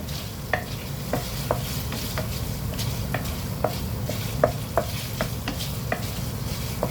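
Eggs with shrimp fry in a pan with a steady close sizzle, while a utensil stirs and scrapes in repeated light clicks and taps against the metal.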